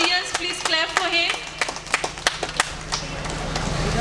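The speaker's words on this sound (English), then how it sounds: "please, all the audience, please clap for him" An audience claps at a school annual day program at St Xavier Vidyalaya, Korgao, Pernem. A voice speaks at first, then scattered, uneven claps follow in a loose rhythm.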